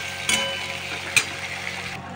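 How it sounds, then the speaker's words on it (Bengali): Onion and chopped tomato frying together in a pan for a banana-flower curry, giving a steady soft sizzle with two brief louder crackles or stirring clatters, close and alone without talk. "পেঁয়াজটা হালকা ভাজা ভাজা হয়ে এসছে, এবার ওর মধ্যে আমি টমেটো কুচিটা দিয়ে দেবো।"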